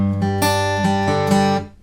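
An acoustic guitar picks a short zigzag arpeggio from a song: about five clear, ringing single notes, close and alone, fading out at the end.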